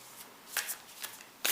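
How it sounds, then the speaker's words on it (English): An oracle card deck is shuffled by hand in quick, soft riffling bursts, several brief papery flutters close to the microphone with a louder final shuffle. "they're shuffling okay"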